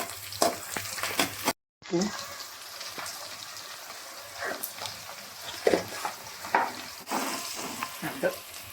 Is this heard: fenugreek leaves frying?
yes